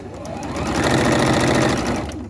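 A sewing machine stitches a fabric hair scrunchie around a hair tie, a loud, close, rapid mechanical chatter that speeds up and holds steady for a couple of seconds.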